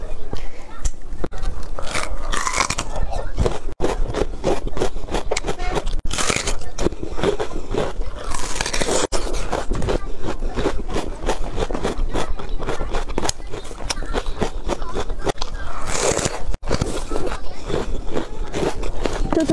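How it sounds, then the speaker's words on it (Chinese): A crunchy fruit radish is bitten and chewed close up, with a long run of crisp, rapid crunches and wet chewing clicks lasting throughout. "水果萝卜嘎嘣脆。"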